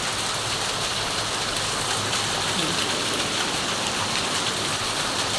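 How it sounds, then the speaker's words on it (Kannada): Heavy rain pours down in front of a house gate, a loud, dense, unbroken hiss of drops drumming on surfaces all around. "ಅಷ್ಟು ಜೋರಾಗಿ ಮಳೆ ಬರ್ತಾ ಇದೆ ನನಗೆ."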